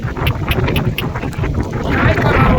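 Strong wind buffeting and roaring across the microphone in continuous rumbling gusts, with faint voices mixed underneath.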